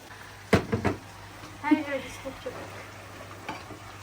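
Meat sizzles in a pan while being cooked for İskender kebab, with utensil clatter and knocks near the start and a soft, steady frying hiss beneath faint kitchen sounds.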